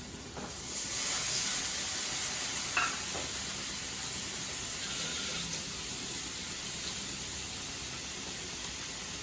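Water goes into a hot pan of oil while fish curry with bottle gourd cooks, producing a steady, close hissing sizzle that swells briefly at the start and then settles into a constant bubbling fry.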